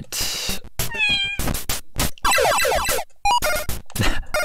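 Cartoonish cat meows from the Alley Cat video game, repeated yowls and squeaky calls mixed with quick clicks and game effects, loud and close.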